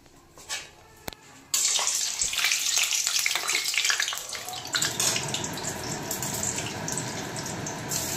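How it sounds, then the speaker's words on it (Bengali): Three to four spoons of sugar go into hot mustard oil in a pan for a mutton fat and jackfruit curry; after a couple of soft knocks, a loud, close sizzle erupts and hisses on steadily. "তেল গরম হয়ে এলে গরম হওয়া সর্ষের তেলে 3 থেকে 4 চামচ চিনি দিয়ে দেওয়া হলো"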